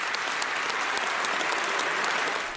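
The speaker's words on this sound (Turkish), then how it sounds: "Zelenski konuşmasının ardından ayakta alkışlandı." Standing ovation in the Canadian parliament for Ukraine's president: dense, sustained applause from a large crowd of legislators, loud and even throughout with no voices over it.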